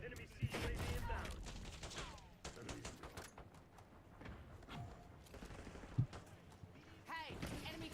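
Gunfire in a Roblox tactical shooter game, sharp shot bursts scattered over the clip and rising at the end, set under constant game noise and radio-style callouts.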